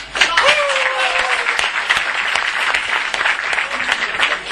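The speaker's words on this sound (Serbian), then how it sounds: "ja tražim da jednim aplauzom nagradite našu odluku" Applause from an audience in a hall, greeting a decision to place a candidate on an electoral list; steady dense clapping holds throughout, with a few sharper claps standing out.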